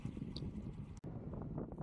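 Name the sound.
strong wind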